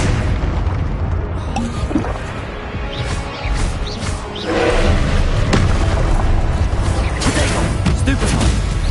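Rumbling, booming spell combat in Hogwarts Legacy around the Arresto slowing spell, loud thuds and swelling whooshes over a steady low roar, with a heavier burst of impacts midway.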